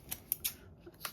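Small scissors snipping paper while trimming a paper doll cutout for a craft tag, four or five quick, crisp, close snips in about a second, with no voices.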